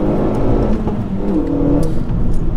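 Renault Megane RS 275 Trophy accelerating hard out of a corner on track, a steady loud engine drone with rising revs and tyre and road roar, heard from close by without talk.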